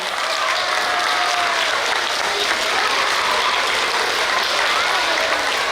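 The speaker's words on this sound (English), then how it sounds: "let's give them a round of applause" Sustained, dense applause from a school assembly honoring a class at a student-of-the-month event, loud and steady across the whole stretch with no break.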